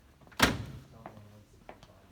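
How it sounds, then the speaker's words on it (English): The cab door of a Can-Am Defender XT Cab HD10 utility vehicle opens with one sharp, fairly loud latch clunk, then two fainter knocks follow. "These doors, easy to open, great accessibility."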